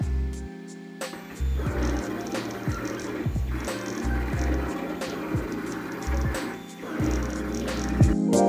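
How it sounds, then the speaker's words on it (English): A MakerBot 3D printer runs while printing a cookie cutter, giving a steady electrical hum with repeated stepper-motor whirs and short sweeping tones at an even working rhythm, close and alone. "take it over to the MakerBot, and get it printed"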